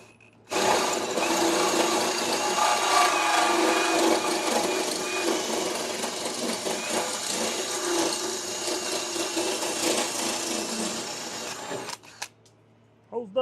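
A power drill bores a hole through metal close by, a loud steady whining grind that runs unbroken for about eleven seconds before cutting off, followed by a brief clatter.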